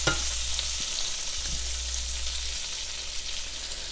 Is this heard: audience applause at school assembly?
no